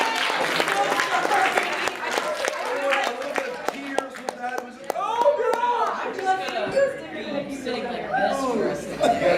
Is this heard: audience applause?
yes